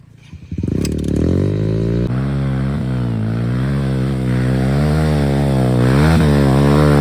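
Motorcycle engine running steadily under a rainstorm, a loud continuous drone that rises in pitch and holds, with wind and rain noise around it and no talk.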